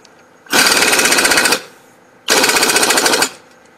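A pneumatic impact wrench tightening a strut bolt on a Toyota Corolla, two loud, close, rapid hammering bursts of about a second each separated by a short pause.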